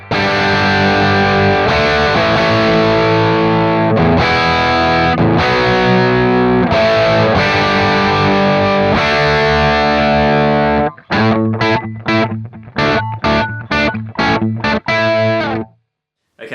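Distorted electric guitar through a Kemper profile of a 1968 Marshall Super Lead with no reverb, sustained loud chords ringing for ten seconds, then a run of tight, choppy stabs before stopping.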